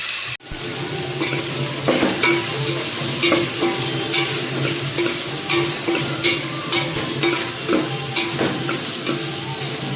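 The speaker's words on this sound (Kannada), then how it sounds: "ಅಲ್ಲ ಬೆಳ್ಳುಳ್ಳಿ ಪೇಸ್ಟ್ ಹಾಕ್ಕೊಂಡಿದ್ದೀನಲ್ವ, ಇದು ಚೆನ್ನಾಗಿ ಮಿಕ್ಸ್ ಮಾಡ್ಕೊತೀನಿ" Ginger garlic paste, along with tomato and garam masala, stirred and fried in a pan gives a loud, steady sizzle with rhythmic scraping stirs throughout, opened by a sharp knock, with no talking.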